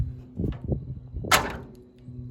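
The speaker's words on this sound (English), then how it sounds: "I'm going to barely shut the door." The door of a 1972 truck cab is eased nearly shut, making a few soft knocks followed by a brief, sharper metallic latch click up close.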